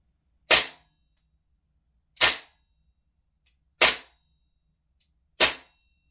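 A VFC MCX Rattler gas blowback airsoft rifle fires four single shots, each a sharp, clean crack spaced about one and a half seconds apart, close and loud against near silence.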